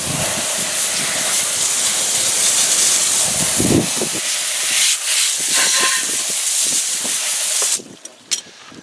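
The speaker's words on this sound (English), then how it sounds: "all I'm going to do is rinse it off, and let's see how effective it is" Water spray rinses wheel cleaner off an aluminum car wheel during auto detailing, a loud steady hiss that runs for about eight seconds, then cuts off into a few short bursts.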